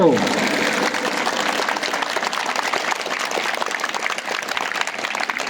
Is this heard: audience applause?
yes